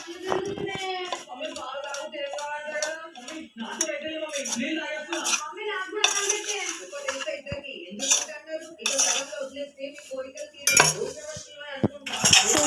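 Metal spoon repeatedly clinks and scrapes against a bowl while soybean recipe ingredients with oil are mixed, a busy irregular rattle of close, bright taps running throughout, with occasional faint speech in the background.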